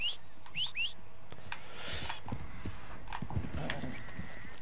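A few quick whistled chirps open, followed by horse hooves clip-clopping over the ground in Red Dead Redemption 2, growing steadier as they come closer.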